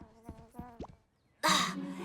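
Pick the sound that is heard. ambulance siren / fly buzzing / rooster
fly buzzing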